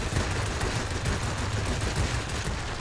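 Steady, dense gunfire from aircraft guns in World of Warplanes, a continuous loud rattle that fills the whole stretch with no talking over it.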